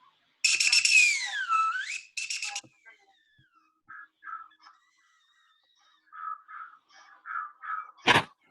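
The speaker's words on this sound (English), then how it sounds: "Well, Felipe, will you please during the improvisation play those whistles?" Bird whistles played during a musical improvisation: a loud sliding, warbling whistle call, then a series of short chirpy toots spaced out, ending with a sharp noisy burst.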